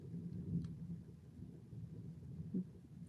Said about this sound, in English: You guys hear the thunder?